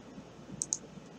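Two quick, faint clicks of a computer mouse close together in an otherwise quiet room.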